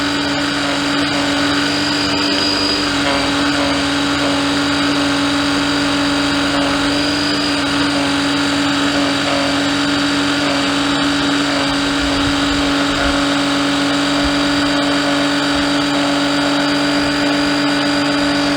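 A cheap 12V oil extractor pump draws engine oil with a steady, loud motorized hum and whine that runs unbroken for the whole stretch, with no voices.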